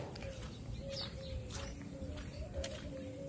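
Many sparrows chirp by a canal in the morning, faint and somewhat distant, in scattered bursts over a low steady background hum.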